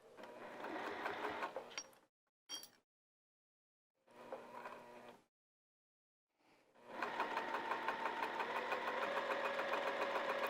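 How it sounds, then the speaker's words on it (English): A sewing machine stitching the fabric edge of a heart-shaped potholder, running in bursts of rapid mechanical whirring with pauses between, then one long steady run, close and alone. "let's sew all the way around the edge"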